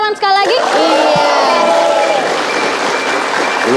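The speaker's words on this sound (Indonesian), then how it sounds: "Semangatnya boleh kasih tepuk tangan sekali lagi?" A television studio audience bursts into applause and cheering after a short shout, the clapping dense and loud at first, then settling into steady sustained claps.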